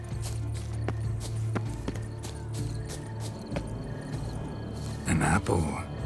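Horse hooves clip-clop in The Witcher 3 video game, a run of soft, evenly spaced hoof knocks under game music, with someone talking over them near the end.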